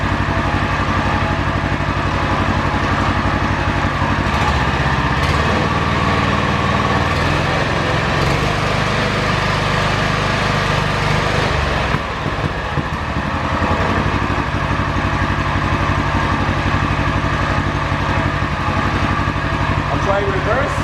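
UTV engine idling steadily nearby as the machine is shifted into forward gear during clutch repair, a continuous loud drone throughout with a brief dip partway, while a person talks over it.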